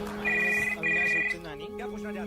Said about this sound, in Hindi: जब घर का लैंडलाइन बजा